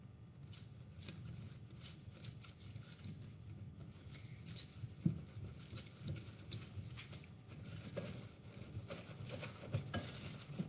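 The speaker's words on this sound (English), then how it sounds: "It's just kind of nicely whisk it all together." A whisk scraping and clinking steadily in a bowl of dry bath fizzy ingredients, including Epsom salt: soft, rapid, irregular metallic ticks and rustles, fairly close and quiet, with no talking.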